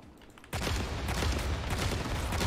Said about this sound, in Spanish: Tres explosiones que me he comido ahí